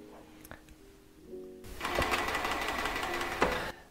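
A Kansai Special chainstitch sewing machine with a balance-driven needle starts up after a few soft clicks and runs at speed, a loud, rapid mechanical whirring and rattle that stops abruptly, with a faint voice early on.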